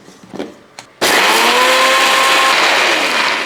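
A mixer grinder bursts into a loud, steady whirring roar after about a second of quiet knocks, grinding fried red chilies of two sizes with salt, the motor tone holding steady throughout.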